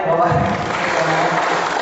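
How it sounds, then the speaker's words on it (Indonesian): Workshop participants clap for a woman, a brief burst of close, busy clapping with voices mixed in over the short moment. "Oke, tepuk tangan buat Mbaknya."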